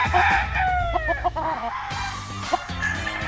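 A white Kelso gamefowl stag of the B-boy line crows nearby, a drawn-out rising and falling call with clucking and other fowl calls around it, loud and clear with no talk.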